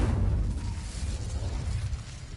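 An Incendio fire spell cast in Hogwarts Legacy, a broad burst of roaring, crackling flame that swells at once and then trails off over a couple of seconds, heard alone at moderate loudness.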